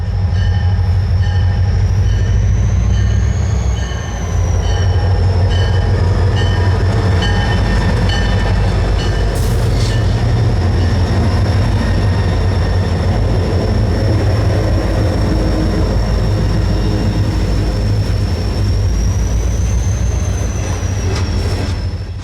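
Freight train 643 hauled by a matched pair of SD40-2 locomotives passes close by at Hickory, a loud, continuous roar and rumble of rolling cars with steady high wheel squeal throughout, no voices.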